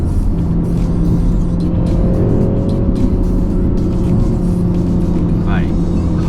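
A MINI Countryman JCW's engine note, partly synthesized through the cabin speakers, hums steadily from inside the car as it drives, under a person talking throughout.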